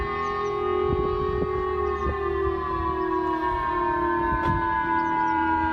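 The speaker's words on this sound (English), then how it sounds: "And you're hearing those sirens." A steady wailing civil defense siren in Japan, an alert for a North Korean ballistic missile launch, drones on continuously, broad and far-reaching, with faint background noise and no talking.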